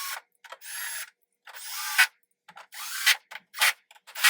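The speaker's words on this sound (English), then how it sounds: "You line up the holes with the tabs, and then you screw those 4 in." A power drill or driver runs in several short, loud bursts close by as screws go into a metal bracket on an MCombo 6056 furniture unit. Brief pauses separate the whirring runs, and nobody speaks.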